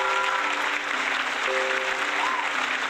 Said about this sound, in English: the applause sound is very low